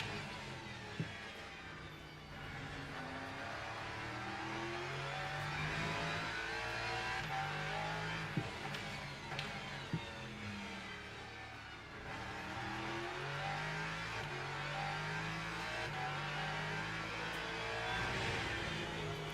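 Hypercar and other race cars lapping in Le Mans Ultimate during a 6 Hours of COTA driver swap event, engines revving and shifting through gears in repeated rising whines, steady and fairly loud with no talk.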